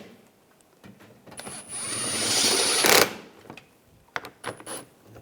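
A power driver tightens screws on the engine splash shield of a 2013-2016 Dodge Dart, whirring steadily for about two seconds and then stopping, followed by several sharp clicks and knocks of handling.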